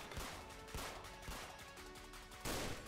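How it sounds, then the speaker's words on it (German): Sniper rifle fire in the police video game Notruf Hamburg during an SEK shift, with several sharp, loud gunshot reports in quick succession over dense, steady game noise and no talking. "Nochmal getroffen mit der Sniper."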